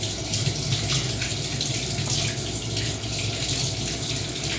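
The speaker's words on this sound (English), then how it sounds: "Hands are washed, cleaned." Water runs steadily from a kitchen tap as hands are washed, a continuous hiss and splash with no break and no talking.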